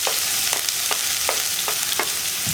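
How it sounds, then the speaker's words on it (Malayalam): Chopped onion fries in coconut oil with a steady close sizzle, while a spatula scrapes the pan in regular strokes about every half second, and no one speaks. "കടുക് പൊട്ടി കഴിയാറാവുമ്പോൾ നമ്മൾ ചോപ്പ് ചെയ്ത് വെച്ചിരിക്കുന്ന സവോള ചേർക്കാം."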